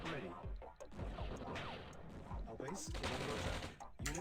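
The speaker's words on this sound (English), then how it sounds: "you guys are doing great shooting down those airstrikes" Continuous bursts of gunfire and crashing explosions from anti-air defenses shooting down airstrikes in the real-time strategy game Command & Conquer: Red Alert, loud and dense throughout, mixed with game voice responses.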